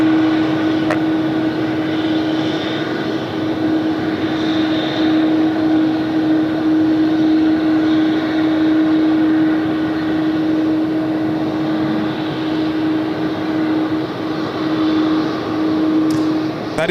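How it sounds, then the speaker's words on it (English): A Pratt & Whitney aircraft engine at Sydney Airport gives a steady droning whirl with a strong constant tone, loud and continuous throughout, the roar holding evenly with faint higher whine above it. "That is the iconic whirl of the Pratt & Whitney engine."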